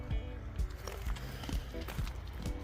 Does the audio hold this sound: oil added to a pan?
no